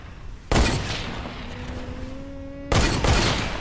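Revolver shots from a six shooter in a trick-shot map of a video game: two loud, sharp cracks about two seconds apart, each with a ringing tail, and a steady tonal hum between them.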